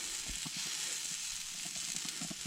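Sliced onions sizzle steadily on a hot grill, a loud continuous hiss with small crackles and pops scattered through it, close and alone without talk.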